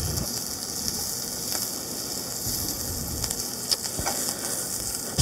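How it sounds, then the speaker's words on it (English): Onions sautéing in a pan after chicken has been seared, giving a steady close sizzle and hiss with a few faint clicks, no voices. "while we are sautéing these onions"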